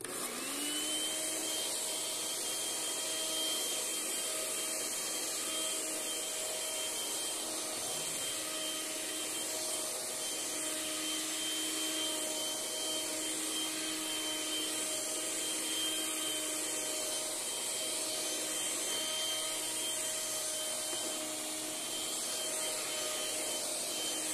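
Eureka TheBoss Superlite stick vacuum runs continuously with a steady, close, high-pitched motor whine and airy rush, constant in level throughout with no speech.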